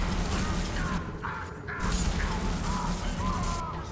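Weapon reloading in the video game FEAR 3, metallic clicks and ratcheting mechanism sounds repeating over a dense, noisy game soundscape with steady rumble underneath.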